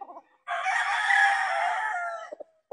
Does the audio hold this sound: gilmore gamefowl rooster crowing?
yes